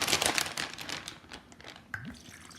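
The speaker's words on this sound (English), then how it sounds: "We are hitting it with the teriyaki marinade and sauce." Teriyaki marinade and sauce is poured over shrimp for hibachi-style cooking on a Santa Maria grill, giving a close wet splashing and crinkling rustle that fades, followed by a short gurgle near the end.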